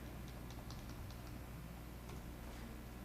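Faint clicks of typing on a computer keyboard sound in short irregular bursts over a steady low background hum, with no voices.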